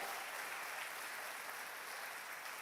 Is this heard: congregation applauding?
yes